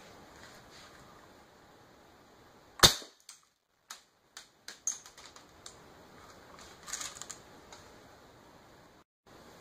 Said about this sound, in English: for the first round, let's start with the steel BBs, and for the first shot, it'll be at 3 pumps